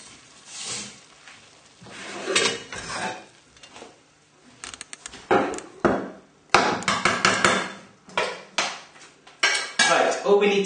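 Cabbage and bacon are spooned onto a plate with a spoon, producing a close run of clattering metal-on-crockery knocks and scrapes in uneven bursts, some sharp and loud, with brief pauses between.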